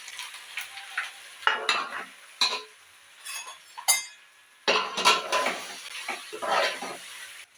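Dhokla pieces tossed into a hot tempering pan with oil, white sesame seeds, curry leaves and a pinch of hing. A spoon scrapes and stirs in uneven bursts, with crisp sizzling and small metallic clinks close by.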